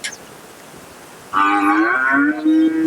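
At the Karimangalam cattle market in Dharmapuri district, a cow lets out one loud, drawn-out moo lasting over a second, close by, after a quiet stretch.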